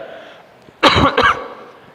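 Two sharp coughs, one after the other, burst out loud and close against a faint, steady indoor hum in a classroom setting.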